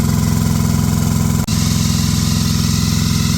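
A loud, steady mechanical drone of a running aircraft APU compressor with a regular pulsing throb and one brief dip partway through, close up and without talk.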